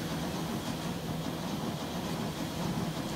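A steady, rumbling steam locomotive in a video game, Transport Fever 2, with faint rhythmic chuffing that seems not to work properly and mechanical noise, fairly quiet and continuous throughout.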